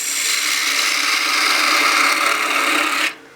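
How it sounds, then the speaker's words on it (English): A 1/2 inch spindle gouge cuts a wine glass spinning on a wood lathe, giving a steady, close, hissing scrape that holds evenly for about three seconds, then stops abruptly. "I'm going to my 1/2 inch spindle gouge here."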